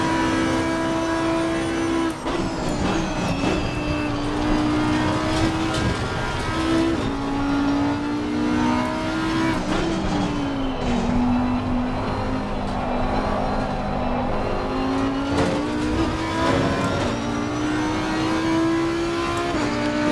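Race car engine in Assetto Corsa Competizione, a Challengers Pack DLC car, revving hard and dropping through downshifts under braking, loud and continuous with rising and falling pitch and no talk over it.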